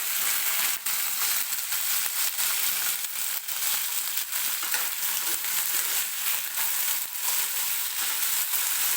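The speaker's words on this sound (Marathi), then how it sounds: "दोन 3 मिनिटे हा बटाटा आणि वाटाणा आपल्याला तेलामध्ये असंच भाजून घ्यायचा आहे" Potato and pea pieces sizzle and crackle in hot oil in a pan while cooking a bhaji for poori, a steady close frying hiss with occasional stirring scrapes, no voices.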